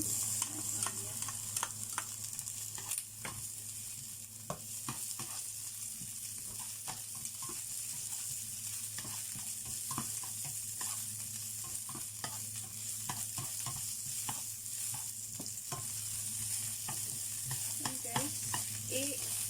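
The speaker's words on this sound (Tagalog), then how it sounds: "Just stir fry the onions until aromatic." Chopped onions stir-frying in hot cooking oil for a pork adobo, a steady close sizzle broken by frequent scraping and clicking of a utensil against the pan throughout, with no talking.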